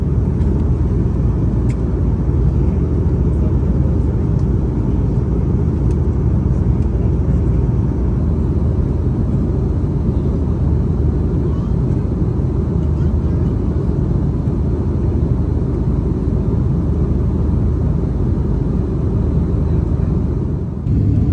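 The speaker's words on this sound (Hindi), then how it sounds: "अब कोलकाता में लैंड कर रहे हैं, पूरा लैंडिंग देखिए।" An airliner landing at Kolkata, heard from inside the cabin as a loud, constant low engine rumble and roar that holds steady throughout.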